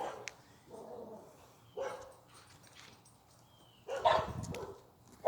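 Dogs bark in scattered bursts, a couple of sharper yelps standing out, at moderate distance over a low background hum.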